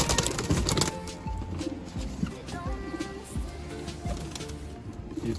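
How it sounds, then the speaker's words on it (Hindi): Jhapda breed pigeons at a pigeon seller's loft, with soft irregular cooing and the light taps and flutters of birds moving close by, all low and continuous with no talk over them. "ये देखिए भाई झापड़ा कबूतर है"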